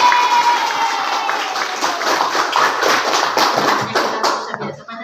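An audience of teachers claps for Pak Hera in a dense, steady burst of applause that thins and fades toward the end.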